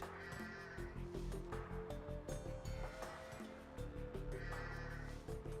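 Sheep bleat repeatedly in Age of Empires II, set over a dense, continuous bed of game music and ambience with crow-like caws; the calls are steady and moderately loud, with no talking.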